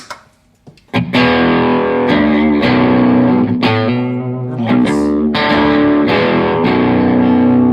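A heavily distorted electric guitar through a Laney Ironheart Foundry Loudpedal plays loud, sustained chords and riffs, with sharp attacks and a thick, buzzing tone ringing out.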